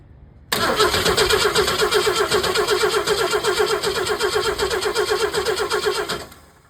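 A car engine with a points-type distributor is cranked over for about five and a half seconds, giving a loud, steady, rhythmic churning that stops abruptly without catching. No one speaks.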